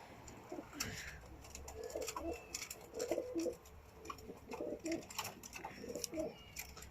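Pigeons coo softly in low, throaty, repeated phrases through a quiet loft-like space, with faint chirps and some light background noise.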